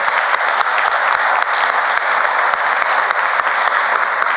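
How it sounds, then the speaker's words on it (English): Loud, continuous applause from a large crowd at the 2016 New Britain All American City celebration, honoring the Coalition of New Britain's Youth; dense clapping holds steady throughout with no pause. "big round of applause for them"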